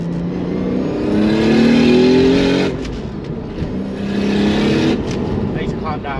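Toyota Supra with a manual gearbox and single turbo, its engine revving up in loud rising pulls from inside the car, easing off and building again, with a voice talking over it.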